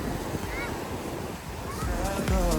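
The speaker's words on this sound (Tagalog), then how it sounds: "Malalaki yung alon." Big ocean waves roll in on the beach at Camaya Coast, a broad loud surf wash mixed with gusting wind noise, swelling louder toward the end.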